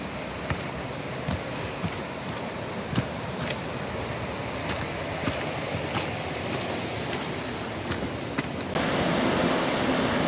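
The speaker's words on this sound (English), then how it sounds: "we get that lovely sound of rushing water to accompany us all the way down" Water rushes continuously and evenly in Glen Nevis, Scotland, a broad steady roar close by, growing slightly louder near the end.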